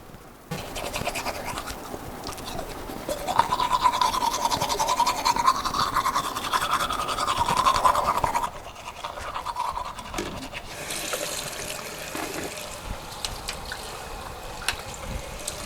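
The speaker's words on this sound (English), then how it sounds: "Bill's brushing his teeth in the RV out there." Teeth being brushed with a toothbrush inside an RV, a continuous close scrubbing and swishing texture that pauses briefly midway, then resumes more faintly.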